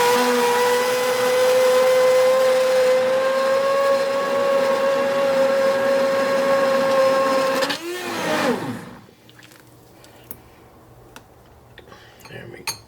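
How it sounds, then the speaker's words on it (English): An immersion blender whirs steadily in a pot of bean soup with vegetables, partly mashing the beans, a loud sustained motor tone for several seconds that winds down and stops, leaving quiet. "we are going to do a quick little blend with the immersion blender"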